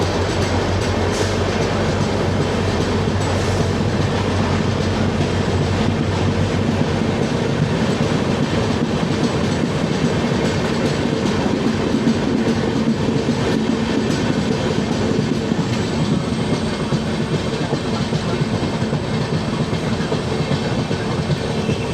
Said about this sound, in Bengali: তবে টানেলে ঢুকলে হাওয়ার যে চাপ সেটা অন্যরকম শব্দ হয়